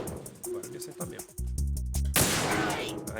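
Gunfire in the video game Metal Gear Solid 2, a dense burst of sharp loud shots over game music, with someone talking excitedly before and around it.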